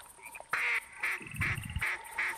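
Several short, evenly spaced duck quacks in the hunting video game The Hunter 2015 repeat in a steady rhythm, fairly close and clear, over a low background murmur.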